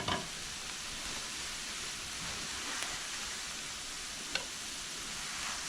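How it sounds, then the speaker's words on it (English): Ground meat browning and crumbling in a pan with a little grease, a steady soft sizzle hissing throughout, with a couple of faint utensil taps against the pan. "this meat should be done being browned and crumbled"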